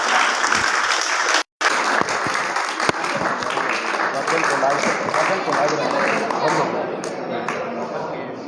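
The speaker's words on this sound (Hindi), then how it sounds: "जोरदार तालियों से भी स्वागत करेंगे राजदास जी महाराज" Loud, dense clapping from the crowd at a village turban-honouring ceremony at an old-age home, sustained for over eight seconds with one brief break near the start and an announcer's voice over it.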